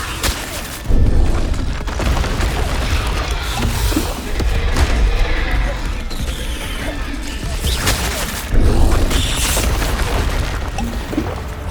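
Repeated Confringo blasting spells exploding in Hogwarts Legacy, dense loud booms and crashes layered over continuous battle noise with heavy low rumble throughout.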